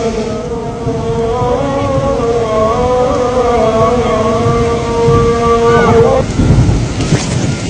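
Heavy rain pours during a thunderstorm in Makkah, a dense steady roar with low rumbling throughout and a sustained tonal drone riding over it that cuts off near the end.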